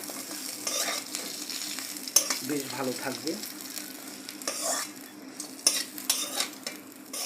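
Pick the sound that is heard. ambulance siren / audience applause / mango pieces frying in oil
mango pieces frying in oil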